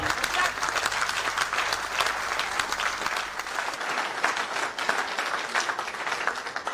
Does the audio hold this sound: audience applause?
yes